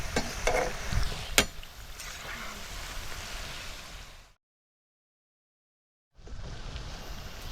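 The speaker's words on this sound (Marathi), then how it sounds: "गोल भजी ही चारी अशी चांगली अशी भाजून घ्यायची तळून घ्यायची" Gram flour (besan) bhaji deep-frying in hot oil, giving a steady broadband sizzle with a sharp clatter near the start, then a sudden gap of silence before the frying resumes.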